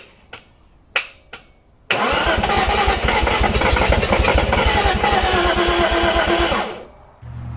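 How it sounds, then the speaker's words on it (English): A freshly restored Datsun Z engine cranks with a few short bursts, then catches and runs loudly with a rough, pulsing idle for several seconds before cutting off, followed by a lower settled rumble. "we're about to start this car"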